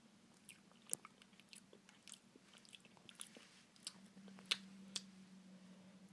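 Someone bites into and chews a DQ M&M's Blizzard up close, soft crunches and wet chewing clicks scattered irregularly over a faint steady hum, with no talking.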